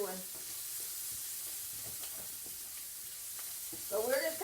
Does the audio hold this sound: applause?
no